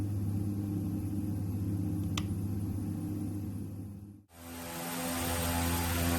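Twin turboprop engines of a Beech 1900D idle in X-Plane 11, giving a steady droning hum with a whining tone, then the sound shifts abruptly to a brighter, harsher roar partway through, with no voices.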